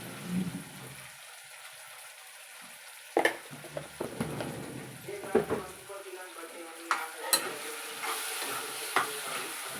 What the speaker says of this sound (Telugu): కొద్దిగా ఆయిల్లో ఇవి కూడా వీటితో పాటు ఫ్రై చేస్తే కొంచెం టేస్ట్ అనేది బాగుంటుంది.